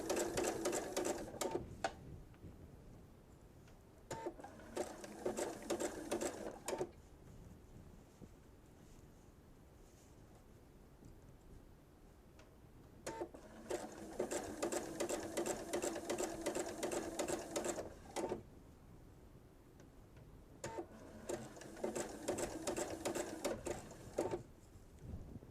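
A sewing machine stitches a straight line on a kitchen-set quilt project in several bursts of rapid, even mechanical whirring, each lasting a few seconds, separated by quieter pauses, close and steady.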